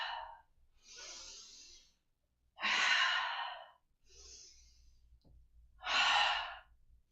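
Slow, audible exhalations during a standing Pilates stretch, several breathy sighs of varying strength, close and clear, with quiet gaps between them and no talking.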